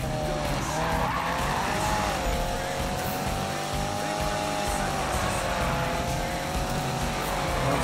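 Continuous tire squeal from a car drifting through corners in the Need for Speed racing game, a sustained wavering screech over roaring engine noise, with a voice talking underneath.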